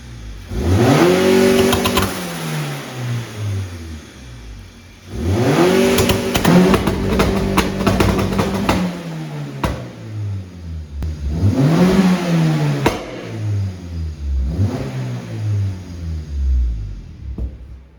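Tuned car with 1000cc injectors and anti-lag setup revving hard on a two-step launch limiter, several loud rising revs bouncing against the limiter with rapid popping crackles, close by.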